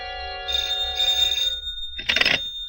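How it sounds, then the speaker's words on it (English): A telephone rings in two clear bursts, then a louder, harsher ring follows after a brief pause, close and prominent with no one talking. "At 8, my phone rang."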